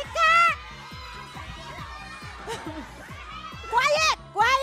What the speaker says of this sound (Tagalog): Kanina pa kayo sumisigaw!